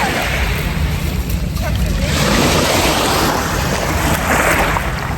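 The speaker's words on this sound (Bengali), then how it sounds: "দেখুন একদম ঢেউয়ের অনেক বেশি শব্দ, বাতাস যে পালা লাগে" Strong wind and waves along the Surma riverbank in Sylhet, a loud, steady roar of gusting wind and rushing water filling the scene from start to finish, with no voices heard.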